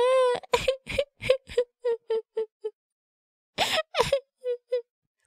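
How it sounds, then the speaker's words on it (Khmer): A young child cries in a series of short, halting wails and sobs, pausing briefly before another burst of whimpering cries. "កុំយំអីកូនម្ដាយ"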